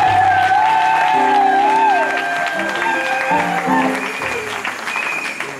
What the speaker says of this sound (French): nous acclamons très fort le roi des rois